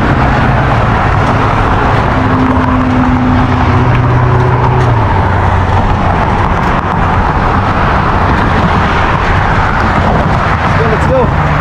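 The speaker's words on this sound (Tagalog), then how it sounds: "lalakas talaga ng mga bibilis sasakyan dito" Fast cars roar past on a busy road beside a cyclist, a continuous loud rush of traffic with engine drones rising and fading throughout.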